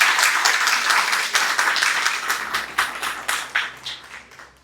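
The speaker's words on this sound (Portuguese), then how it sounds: "dá uma grande salva de palmas com a palavra de Deus" Congregation at an evangelical church service clapping together, a dense wash of many hands that thins into separate claps toward the end.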